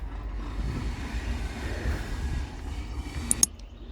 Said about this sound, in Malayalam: നമ്മൾ വന്നതിൻ്റെ ലോക്കോ പോവുകയാണ്